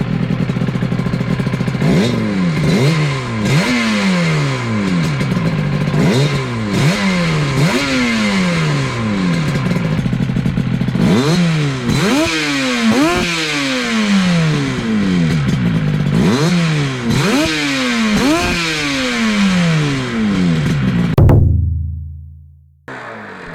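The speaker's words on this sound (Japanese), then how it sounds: "音自体は K2 テックのチャンバーはステンレスチャンバーなんで乾いた音がしますね。" A Yamaha TZR250 3MA two-stroke with a rear-exhaust K2 Tech stainless chamber blips about ten times in a steady series of sharp, rising revs. Each burst is loud and close and falls back quickly, with no voices, before the sound cuts off.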